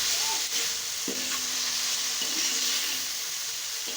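Masala of turmeric, salt and spices sizzles steadily in a pan while a spoon stirs and scrapes through it, the frying hiss loud and continuous with occasional stirring knocks.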